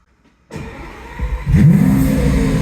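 A Lamborghini Aventador engine starts abruptly after a moment of silence in a parking garage, then revs up hard into a loud, deep roar that keeps going.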